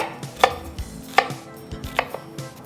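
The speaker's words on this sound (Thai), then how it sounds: "หั่นหอมด้วยครับผม" Onions being chopped with a knife on a cutting board while preparing Spanish braised pork; a few sharp, irregular close knocks of the blade with quiet pauses between, no talking.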